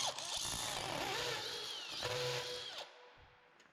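A power drill whirs close by at a passive SIP house kitchen install, running steadily for nearly three seconds before winding down.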